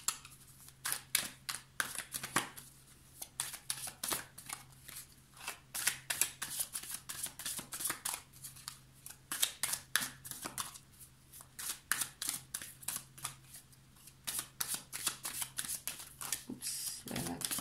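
Tarot cards are shuffled by hand in quick repeated bursts of riffling and flicking, close and crisp, with short pauses between rounds and a few cards slapping down as they fall, while someone speaks at times.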